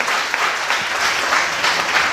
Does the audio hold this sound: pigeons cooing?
no